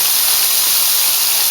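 Onions, tomato and jalapeños sautéing in a pan with a little oil, giving a steady, loud, even hiss of frying with no breaks and no voices.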